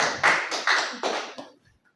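Audience applause at a church performance, a few short bursts of clapping that quickly fade to quiet.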